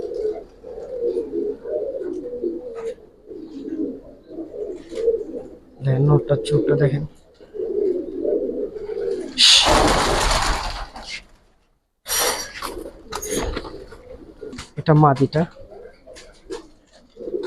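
Old-breed Giribaz pigeons in a loft give low rolling coos throughout, with someone speaking over them and loud bursts of handling noise and fluttering partway through.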